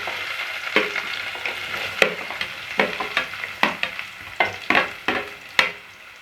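Finely chopped onions sauté in oil with cardamom, cloves and bay leaf for a potato and pea kurma, a steady sizzle punctuated by sharp spatula stirs and scrapes against the pan.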